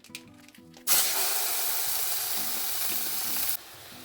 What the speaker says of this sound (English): My pan is hot, so now I'm gonna add my ground beef.